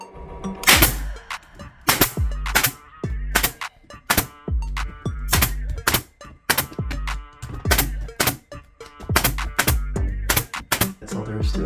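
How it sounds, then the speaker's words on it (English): A brad nailer fires nails into an acoustic panel in a fast run of sharp, loud, close shots, irregularly spaced and sometimes in quick pairs, with no talking. "And then we're gonna shoot this with the nailer."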